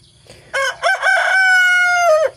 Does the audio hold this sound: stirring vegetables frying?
no